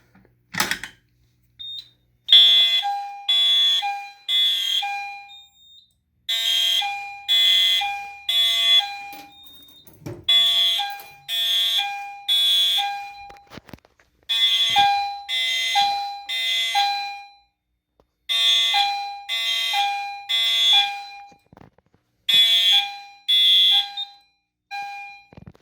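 An EST fire alarm system set to code 3 sounds after a 278B pull station is pulled. Loud electronic horn beeps come in repeated groups of three with short pauses between groups, and the pattern continues steadily throughout.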